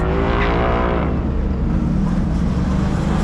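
A car threads an autocross slalom at the Nashville Superspeedway during a TRSCCA event, its engine loud and close, revving with rising and falling pitch as it weaves through the cones.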